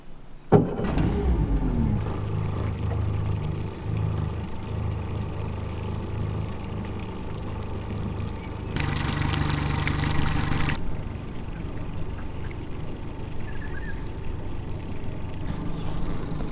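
A Garmin electric trolling motor hums steadily as it turns a boat in circles on the water, a continuous low drone with a brief louder stretch midway and faint high chirps near the end.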